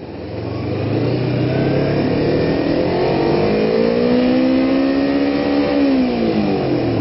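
Honda F4i sport motorcycle engine on a ride along Mulholland Drive, a loud, steady mid-pitched drone that swells and rises in pitch as the bike accelerates, continuing throughout with no talk.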